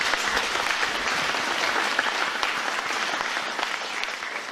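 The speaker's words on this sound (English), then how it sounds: "let's begin by giving the Ambassador one more round of applause" Sustained applause from an audience at a formal address by the Chinese Ambassador, a steady wash of many hands clapping with no speech over it.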